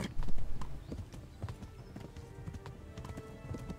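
Horse hooves gallop in the medieval video game Kingdom Come: Deliverance, a fast, steady clip-clop rhythm heard up close with faint background game sounds.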